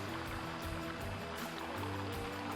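Dirty water flushing out of a drip-irrigation filter, heard as a steady, close rush of flowing water with a faint low hum beneath it throughout.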